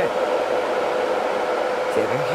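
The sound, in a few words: white noise machine fan sound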